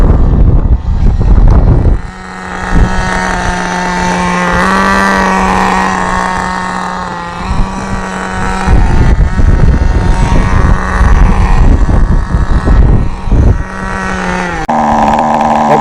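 A Thunder Tiger SSR 4WD nitro RC car engine warming up drones loudly and continuously, high-revving, pitch rising and falling as it's throttled, close to the microphone with no talking.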